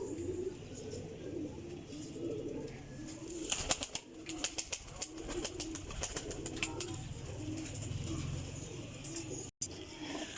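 Several pigeons, kept as prized golden fancy birds, coo in soft repeated low phrases with a steady murmur behind them, punctuated by a few sharp rustling clicks and brief taps.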